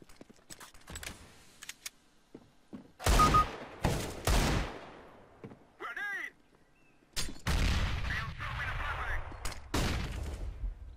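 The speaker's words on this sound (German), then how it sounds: "Er hat 3 Schüsse abgegeben, ne?" Gunfire in Counter-Strike: Global Offensive, several sharp loud bursts of shots spread across the round, with quieter game sounds and clicks in between.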